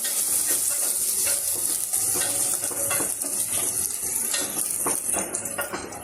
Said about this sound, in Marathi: कांदा चांगला परतून घ्यायचा आहे तो होईपर्यंत